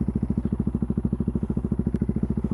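A Yamaha XT660Z Tenere single-cylinder motorcycle with an aftermarket exhaust idles close by, its deep, even thumping pulses steady and loud with no talking over it.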